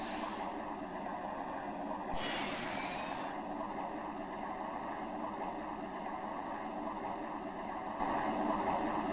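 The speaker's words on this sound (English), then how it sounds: "full afterburner and wheel brakes off" A Saab Viggen jet in a flight simulator game spools up at full afterburner for takeoff, a steady loud roar with a rising whine partway through and a surge in intensity near the end.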